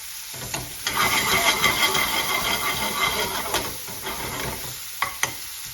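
Chicken tikka balti with onion sizzles in a hot pan in Indian restaurant style, with a steady frying hiss broken by scraping stir clicks. No one speaks.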